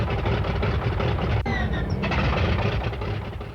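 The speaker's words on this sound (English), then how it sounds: "Start engine." A World War II aircraft engine on a carrier deck turns over and catches, a loud, steady rumble with a sharp transient as it fires, then sustained droning under the noise of the ship.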